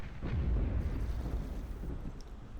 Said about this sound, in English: Firing a ultra-high damage railgun shot.